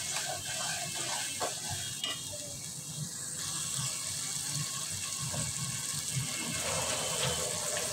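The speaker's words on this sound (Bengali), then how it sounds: "আর এখানে আমার মশলা সব কিছু দেওয়া হয়ে গেছে, প্রায় কষানো, প্রায় কাছাকাছি।" Beef with spices and salt sautéing in a pot at home, a steady broadband sizzle with scraping stir strokes and small clinks throughout, fairly close and continuous with no talk.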